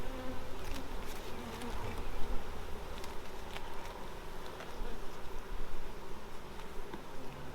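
Honeybees buzzing around an open hive during a hive inspection, a dense, steady close-up drone with busy flickers of movement throughout, with no talk.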